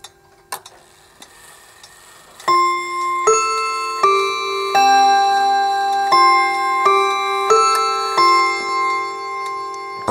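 Hermle 8-day Westminster chime wall clock striking the half hour: a close, clear sequence of about eight ringing rod chimes with long overlapping decays, played alone after a few faint ticks and clicks.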